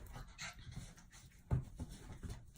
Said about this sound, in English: My dog's acting crazy.